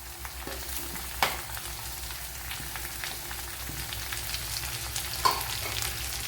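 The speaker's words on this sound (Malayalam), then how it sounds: "ഇതിലേക്ക് ഇനി ഒരു രണ്ട് വലിയ സവാള ഇതുപോലെ കട്ട് ചെയ്തെടുത്തിട്ടുണ്ട് അത് ഇട്ട് കൊടുക്കാം" Sliced onions tipped into a pan of frying coconut for an egg curry, giving a steady soft sizzle with a couple of sharper clatters, close and moderately quiet.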